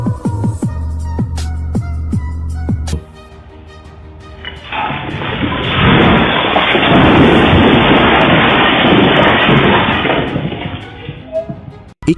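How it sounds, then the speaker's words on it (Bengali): Lightning strikes a car, and after a few seconds of tonal music a heavy, rolling thunder crash swells in, loud and broad, rumbling on for several seconds before cutting off. "একটি গাড়ির উপর হঠাৎ করে বজ্রপাত পড়ল"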